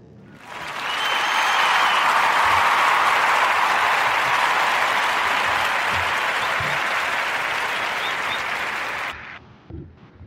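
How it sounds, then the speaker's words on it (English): Warm applause for a student, rising quickly into a loud, even wash of clapping that holds steady for several seconds before cutting off abruptly. "give a warm round of applause for Nehemiah"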